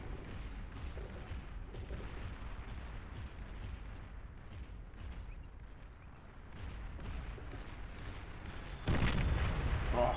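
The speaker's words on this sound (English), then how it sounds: "nuclear bombers bombing away" Nuclear bombers drop payloads in the strategy game Beyond All Reason, giving a rolling series of distant booms and rumbling blasts over a steady battle din, with a heavier explosion near the end.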